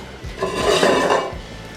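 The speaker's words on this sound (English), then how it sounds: "now I'm just going to mix that into my cheese sauce" Ingredients stirred into a cheese sauce for shrimp rasta pasta, a single loud clattering scrape of a utensil against the pan lasting about a second, close and with no talking.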